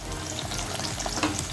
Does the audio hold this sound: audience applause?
no